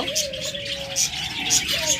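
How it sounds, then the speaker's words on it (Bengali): A pair of cockatiels kept with their eggs calling at close range, with repeated short whistled chirps and a sustained tonal call over a faint background murmur. "ফ্রেন্ডস এখানে রয়েছে একজোড়া ককাটাল পাখি একদম ডিম সহ"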